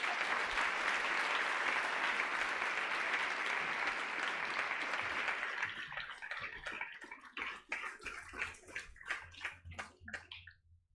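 A summit crowd applauds for a guest, a dense sustained roar of clapping that thins into scattered individual claps before fading out.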